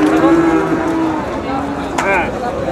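A bull lowing at a cattle market in Panchagarh, one long drawn-out moo filling most of the moment, close and loud over a busy crowd murmur.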